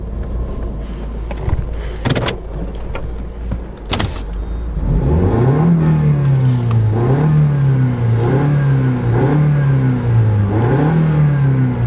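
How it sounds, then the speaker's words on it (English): An Acura RDX SUV with over ten years and 150,000 miles on it revs its engine up and down in rhythmic pulses, close and steady, after a few seconds of quieter idle and handling noise. "let me let y'all listen to the motor one more time before the camera dies"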